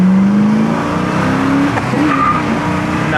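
A 1969 Chevelle's engine runs while the car is driven: a loud, close, continuous drone with tonal whines that climb in pitch, and a brief squeal-like edge midway. No talking.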